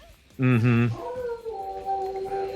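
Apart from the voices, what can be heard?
dog howling at loud noises outside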